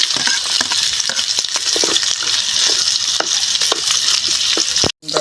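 Pork with onion, garlic and ginger fries in a hot pan, a steady close sizzle and crackle with scattered pops and stirring scrapes. The sizzle cuts out briefly near the end.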